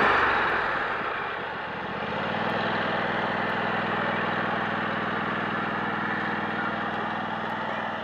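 A riding lawnmower engine idles steadily at close range, a low even mechanical drone that settles into a constant hum after a brief shift in pitch early on, with no voices.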